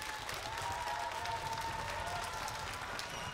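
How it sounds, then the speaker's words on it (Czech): Audience at a children's singing contest applauds, a dense, even burst of clapping from many hands that carries on steadily, with a voice faintly underneath. "já myslím, že zatleskejte jim všem."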